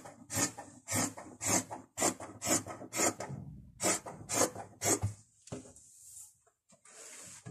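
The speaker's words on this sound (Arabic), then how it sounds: "صافي وغادي نقطع البنات الكم ديالي" Fabric for a pajama sleeve is cut: about ten loud, rhythmic rasping strokes up close, then a few softer scrapes near the end, with no voice.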